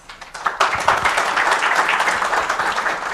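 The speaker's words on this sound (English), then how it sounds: "Please welcome him with a huge round of applause." An audience at a data center industry event in Mumbai breaks into loud applause to welcome a speaker, the clapping swelling quickly from a few hands into a dense, sustained burst close by.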